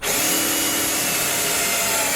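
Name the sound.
power drill driving into wood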